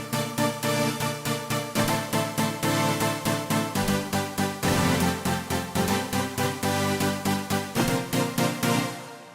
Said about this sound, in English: Now, there's no big synth sounds like this in Cycle.